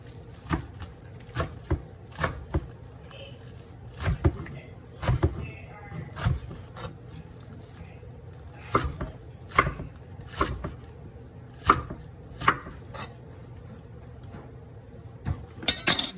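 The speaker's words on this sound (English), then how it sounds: "And I'll cut up my green onions." Green onions chopped with a knife on a cutting board for pork belly kimchi fried rice, a steady run of sharp, close knife taps in irregular bursts with short pauses between them.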